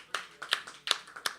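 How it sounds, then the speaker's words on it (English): Scattered handclaps from a small late-night audience, about four sharp separate claps spread across a brief moment, fairly faint and with no cheering. "give yourselves a round of applause"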